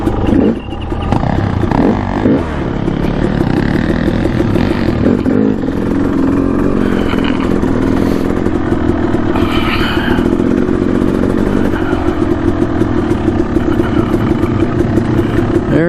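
A Kawasaki KLX140RF dirt bike rides a single-track trail in Payson Canyon, Utah. Its engine runs loud and continuous nearby, revving and rumbling with clatter over rough ground.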